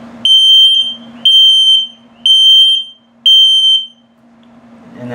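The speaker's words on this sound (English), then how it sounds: "beeping slowly for low battery alarm" An RV LP/CO detector with a low battery, in a 2021 XLR Micro Boost 25LRLE, gives four loud, evenly spaced bursts of shrill double beeps, each about a second apart, close by, with quiet gaps between.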